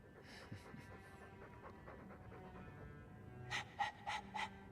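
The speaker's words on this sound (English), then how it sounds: "All that noisy dog breath, day in, day out." In the Dragon Age II video game, a dog breathes noisily with quiet, steady panting, then several louder, sharper gasping breaths come close together near the end.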